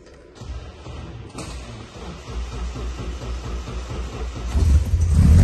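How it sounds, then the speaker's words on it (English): A 1978 MG B classic car engine is started and runs, a low rumble building steadily in loudness toward the end, with a few small clunks early on and no talk. "Just fire her up"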